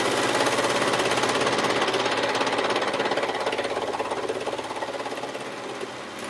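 A Brother 1034D serger stitching through two layers of denim, running as a loud, steady rapid mechanical chatter for several seconds before easing slightly toward the end.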